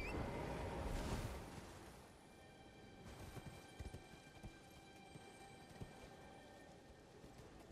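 Horse hooves galloping in the video game Elden Ring, a steady run of clip-clop footfalls under game music and ambience, with a louder rush early on.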